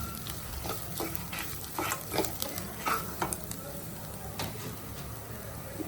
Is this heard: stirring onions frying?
yes